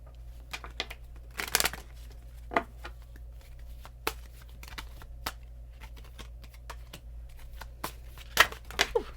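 Tarot cards shuffled by hand in a quiet room, giving soft, uneven riffling clicks and slaps with a few louder snaps, close and alone against faint background hum.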